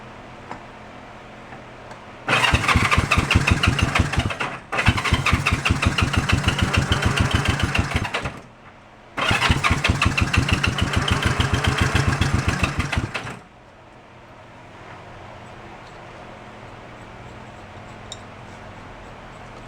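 A Honda CB350 motorcycle engine with a spark plug removed cranks in two long bursts of rapid, rhythmic chugging, loud and close, separated by a short pause and trailing into quiet.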